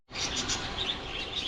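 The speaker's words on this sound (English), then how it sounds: "Canaries and budgerigars." Canaries and budgerigars chirp together in an aviary, a dense, continuous chatter of high tweets and trills, close and steady throughout.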